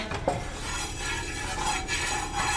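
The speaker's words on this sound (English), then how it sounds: "I'm continuing to stir for about 3 or 4 more minutes" Roux being stirred in a pot just pulled off the burner, a steady close scraping and swishing of a utensil against the pot, continuous without talk.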